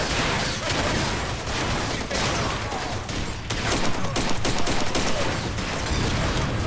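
Dense gunfire from a Far Cry 2 shootout, rapid overlapping shots and bursts that run without a break for several seconds at a loud, steady level with no speech.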